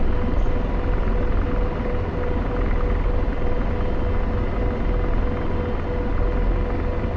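An AH-64 Apache helicopter lifts off in a flight simulator, its rotor and engine forming a steady, loud, dense rumble that holds throughout with no voices over it.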